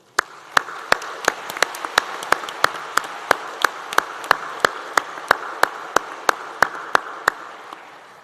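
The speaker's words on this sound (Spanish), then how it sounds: "Un aplauso, por favor." Sparse, slow clapping at a seminar, only a few pairs of hands striking in a steady sequence of sharp, separate claps that continues for about eight seconds, with no voices.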